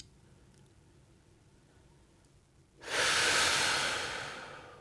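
A slow, steady exhale during a relaxation exercise for singing begins after a quiet pause, rising to a soft, breathy rush of air that fades gradually as the breath runs out.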